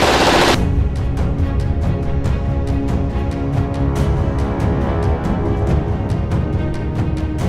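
Rapid, loud bursts of firecrackers or gunfire crackle continuously in an Ilocano drama, sharp repeated pops in an uneven rhythm over a dense, noisy background with no talk.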